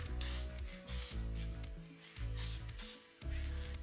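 Quick bursts of a spray bottle misting water onto paper freshly glued to canvas, several short hissing sprays in an uneven rhythm, close and fairly loud, with no voices.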